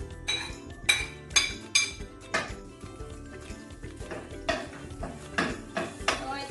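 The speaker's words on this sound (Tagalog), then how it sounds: "Gigisa natin yung karne. Lagay na natin yung bawang." Garlic being added to meat sautéing in a pan in a home kitchen, with repeated close metallic clinks and scrapes of a utensil against the pan in an uneven rhythm.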